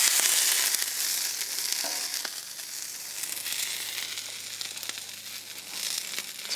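Broccoli cooks in oil on a Blackstone griddle, giving a loud, steady sizzle with crackling and occasional scraping, continuous and close with no voices.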